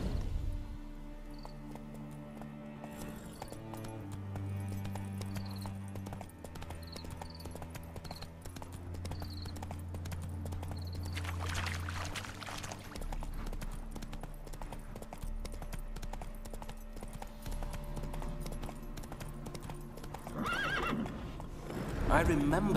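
Horse hooves clip-clopping and neighing from the spooked horse Roach in The Witcher 3: Wild Hunt video game, steady hoofbeats under a swelling musical score, with whinnies rising toward the end.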